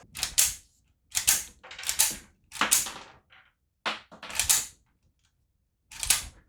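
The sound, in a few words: Type 14 Nambu pistol being loaded and dry cycled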